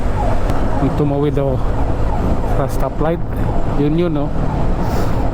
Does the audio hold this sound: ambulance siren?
yes